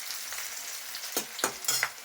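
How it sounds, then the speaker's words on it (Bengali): Chopped onion with bay leaf fries in hot oil, a soft continuous sizzle close by, punctuated by a few sharp scraping strokes of a spatula stirring in the pan, without voices. "তেজপাতা দিলাম, একটু পেঁয়াজ কুচি দিলাম, একটু একটু ভাজা ভাজা হবে লাল লাল।"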